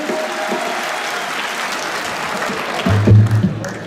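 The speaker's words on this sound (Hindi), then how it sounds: "आप सभी लोगों की तालियां जो है वो थोड़ी भीनी भीनी जरूर हो, खुश जरूर हो," Audience applause at a spiritual discourse event, a steady broad wash of clapping throughout, swelling louder near the end with a low rumble.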